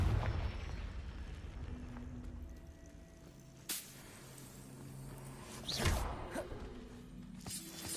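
Sharp whooshing bursts and blasts from a Confringo fire spell in Hogwarts Legacy, two distinct swishing impacts over a low ambient game background.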